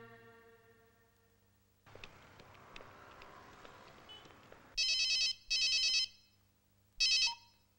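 A telephone rings in a quiet indoor scene. After some soft background shuffling, three loud electronic ringtone bursts sound close by, the first two back to back and the third after a short pause.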